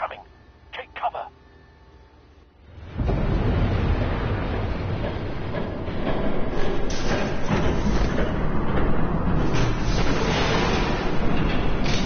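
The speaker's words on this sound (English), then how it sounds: "There's a train coming." A train rumbles past in the Batman Telltale game, a loud continuous roar that swells in after a few quiet seconds of faint thuds and holds steady to the end.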